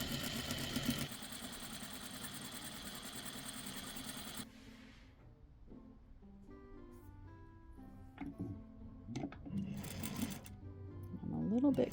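Sewing machine stitching fabric on the bias, a steady close mechanical whir for the first few seconds before stopping, followed by quieter handling noises and a voice speaking.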